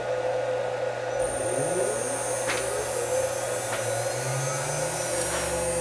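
Onefinity CNC router spindle running at about 10,000 RPM, a steady, fairly loud electric whine and whir with a rising tone as it spins up, holding constant throughout.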